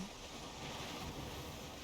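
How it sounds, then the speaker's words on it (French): Ocean waves in the video game Valheim, a steady broad wash of surf and wind noise with no distinct breaks, moderately loud and continuous. "Oh my god, il y a des vagues."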